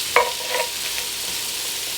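Food sizzles in a hot frying pan while being stirred, a steady close frying hiss broken by a sharp scrape of the utensil near the start.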